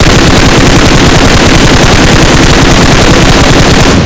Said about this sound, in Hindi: एक गन मैंने M4 लिया है with red dot. Let's see, मैं ट्राई करता हूँ फायर के लिए।